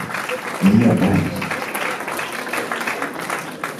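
Wedding guests applaud in a steady round of clapping that carries through the whole stretch, with a brief louder burst of voice or cheering near the start.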